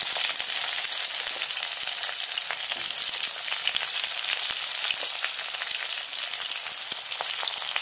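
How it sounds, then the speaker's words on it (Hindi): Garlic and onion fry in a pan, a dense continuous sizzle with faint crackles throughout, close and steady with no talk. "इन सभी को अच्छे से भूनना है"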